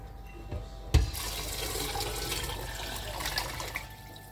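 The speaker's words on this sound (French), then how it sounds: "Moi, je remplis mon thermomix d'eau." Water runs from a tap into a Thermomix bowl in a kitchen, beginning with a sharp knock and then a steady splashing, rushing fill that continues to the end, with no voices.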